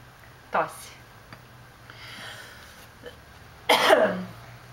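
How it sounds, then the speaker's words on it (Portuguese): A baby coughing indoors, close: one short cough, a soft breathy sound, then a longer, louder cough burst near the end. "Cadê a tosse do neném?"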